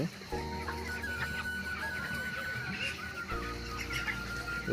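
A large poultry flock feeds together inside a farm shed, a continuous clucking chatter spread across the birds over a steady mechanical hum.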